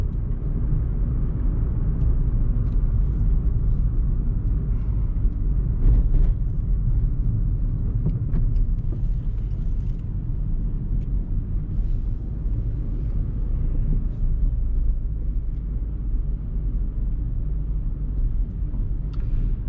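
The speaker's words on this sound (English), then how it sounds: "Hopefully the sound is good enough this time so you can hear the engine." A 2008 Suzuki Swift with a 1.3 engine drives along, its engine a steady low rumble heard from inside the cabin, continuous and fairly loud with road and wind noise beneath.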